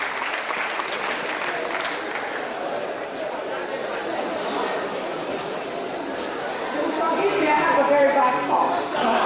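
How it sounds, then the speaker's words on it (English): An audience at a 2015 University of Lagos seminar applauds a speaker walking up, a continuous wash of clapping mixed with crowd chatter that swells louder toward the end. "A round of applause for her as she comes."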